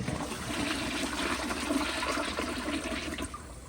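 A 1994 Kohler Wellworth Lite elongated toilet, likely clogged, flushes with a steady rushing, gurgling wash of water that stays even and fairly close throughout, with no voices.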